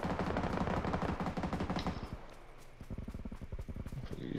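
Gunfire in the game PUBG: rapid bursts of shots ring out in quick succession, with a dense volley early and another string of sharp, evenly spaced shots near the end.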